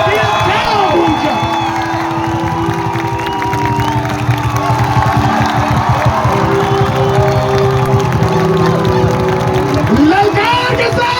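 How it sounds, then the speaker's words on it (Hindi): A congregation at a church convention in India cheers and claps together, a dense, loud, sustained roar of applause and voices filling the hall while a preacher's voice carries over it. "जोर की आवाज के साथ, तालियों की गड़गड़ाहट के साथ धन्यवाद।"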